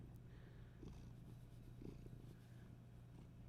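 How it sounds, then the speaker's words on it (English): A cat purrs loudly and steadily up close, a continuous low rumble with no other sounds. "He's purring really loud."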